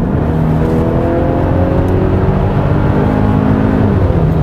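The 2.5-litre turbo gasoline engine of a 2021 Kia Sorento drones loudly and steadily, its pitch climbing gradually as it revs, with no voices.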